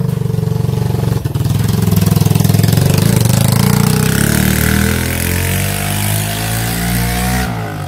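A motorcycle engine revs loudly and steadily throughout, a continuous buzzing drone with rising pitch and a brief dip early on, heard close at an outdoor community challenge event in San Juan Tepezontes.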